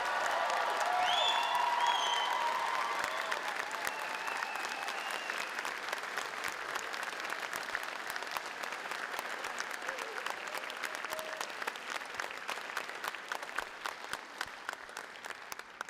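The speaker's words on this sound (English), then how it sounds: "join me in one massive round of applause for these kiddos tonight" An audience at a high school commencement ceremony applauds at length, sustained clapping with a few cheers early on that slowly thins toward the end.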